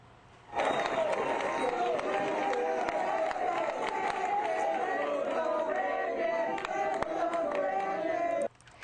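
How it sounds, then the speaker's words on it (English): A crowd at a Ron DeSantis bill-signing event in Brandon, Florida chants loudly and steadily, a dense mass of voices that cuts in abruptly and holds at full strength for about eight seconds. "The crowd even breaking out into chants during the event"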